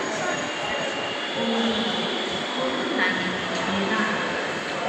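A Dhaka metro rail train runs with a steady, loud rumble and rushing noise that fills the whole stretch, with a voice faintly present beneath it.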